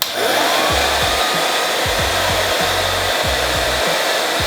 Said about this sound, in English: Make sure that this is connected to the nose of your blow dryer before you turn it on